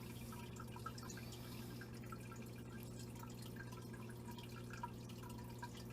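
Water drips slowly into a container while imported female bettas acclimate, faint scattered drops over a constant low mechanical hum.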